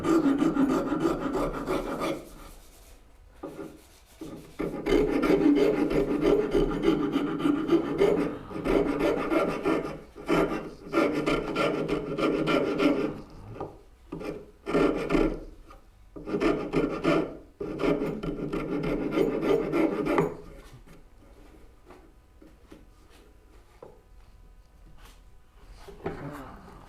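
A rasp works over a wooden backsaw handle to reshape it, long stretches of steady rough scraping broken by short pauses, close and loud, with a voice talking now and then.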